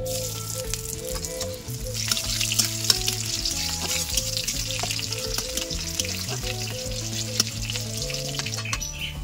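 Black cumin seeds and crushed garlic fry in hot mustard oil in a village kitchen, giving a steady, dense crackling sizzle broken by scattered pops and the scrape of stirring.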